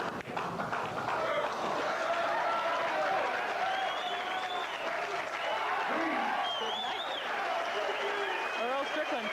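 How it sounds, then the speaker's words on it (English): A crowd at a 1983 pool match between Earl Strickland and Steve Mizerak breaks into sustained applause, dense and loud throughout, with a commentator speaking over it. "The crowd loving it because Earl Strickland now has a 3-0 advantage over Steve Mizerak"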